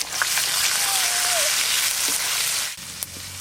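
Chopped onions hit hot oil already tempered with cardamom, cloves, cinnamon, peppercorns, bay leaf and dried chilli, giving a steady loud sizzle and crackle that fades sharply near the end, with a faint clink of utensils.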